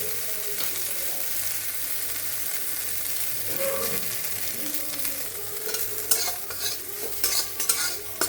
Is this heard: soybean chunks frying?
yes